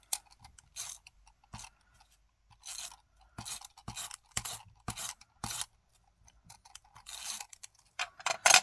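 Scissors snip through paper around a collage ATC card in short bursts of crisp cutting and scraping, with quiet pauses between cuts, close and alone without any talk.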